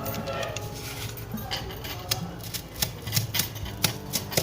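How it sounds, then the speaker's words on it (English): A sharp knife scoring and slicing through a sturdy piece of cardboard, with a series of crisp clicks and scraping strokes at close range over a quiet background. "take a sturdy piece of cardboard and cut it out with a sharp knife"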